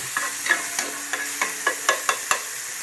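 Onions cooking in a pan for a brewery Mother's Day brunch, with a steady soft sizzle under a run of sharp utensil clicks and scrapes at an uneven pace, close by and fairly quiet, no talking.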